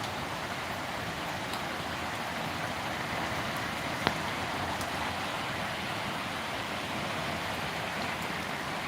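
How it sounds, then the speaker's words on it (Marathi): Dense, unbroken hiss of heavy rain pouring down in Solapur, steady and enveloping throughout, with a single faint knock partway through. "पाऊस चांगलाच पडायला लागला"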